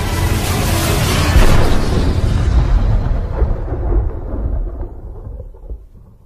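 Cannon blast in a children's audio drama: a huge rolling boom that swells over the first second or two, then rumbles and fades away slowly, loud and alone without talk.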